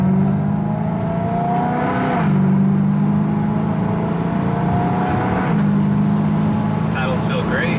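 A BMW E90 M3 with newly fitted paddle shifters drives along, its engine holding a steady drone that dips and climbs again as it shifts. It sounds close from inside the car, with a voice talking over it part of the time.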